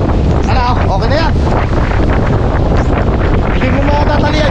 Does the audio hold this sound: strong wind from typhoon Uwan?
yes